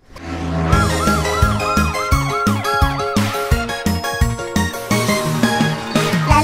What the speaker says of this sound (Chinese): 来啦来啦，消防车来啦，大家请让开，它跑得快